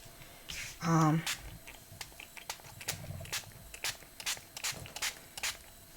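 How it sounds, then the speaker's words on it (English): A spray bottle gives several short, sharp hissing bursts spaced a second or so apart, close by, onto machine embroidery, with a brief voice near the start. "So I'm going to spray this one as well."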